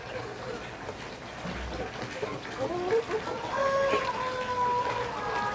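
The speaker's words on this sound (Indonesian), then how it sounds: "ada ayam jago, ada ayam betina ya." Rooster and hens on a home farm cluck softly in the near distance, with a few drawn-out calls rising over steady outdoor background noise.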